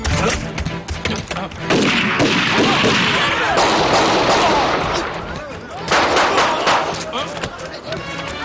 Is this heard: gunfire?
yes